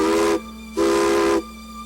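Two blasts of a steam locomotive whistle on the Durango & Silverton narrow gauge railroad departing Silverton, a short toot then a longer loud one, with steady hiss beneath.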